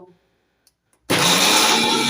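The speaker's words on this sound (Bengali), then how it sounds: "ভালো করে মিক্সার করে নেব" After a second of near silence, a mixer grinder blending a chickpea masala paste with turmeric and a little water switches on abruptly into a loud, steady, close whirring roar that runs to the end.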